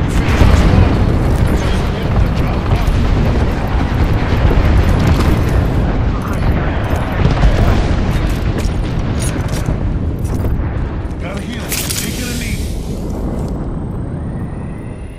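Rumbling airstrike explosions in Apex Legends roll on in a loud, dense wall of booms, close and unbroken, with a faint rising aircraft whine near the end.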